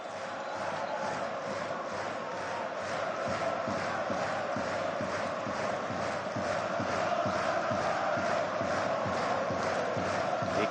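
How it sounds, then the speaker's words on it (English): A packed football stadium crowd at a Northern Ireland versus Hungary international in 2015 roars continuously, a dense, loud wall of chanting and cheering that holds steady throughout. "The crowd fill the atmosphere once again."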